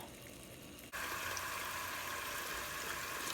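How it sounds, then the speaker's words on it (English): Cold tap water switched on to run over cooked potatoes, starting abruptly and then gushing steadily as a loud, close, broadband splash with no speech. "now I'm just running the potatoes under some cold water"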